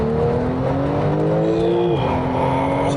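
A Porsche 911 992 Turbo S in sport mode pulls hard, its engine note rising loud and close before a quick drop at a gear change, then climbing again with a faint whine above.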